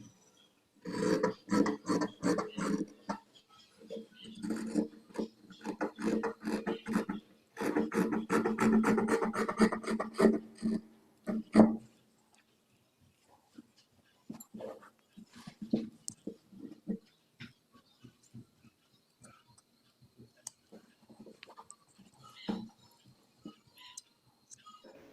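Scissors cut through blouse sleeve fabric in close, rasping bursts, busy for the first twelve seconds and then turning into sparse, scattered snips and rustles.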